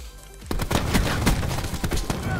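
Rapid bursts of gunfire in Black Ops 4 Search and Destroy, a loud fusillade of sharp overlapping shots firing near and steady for about two seconds after a quiet start.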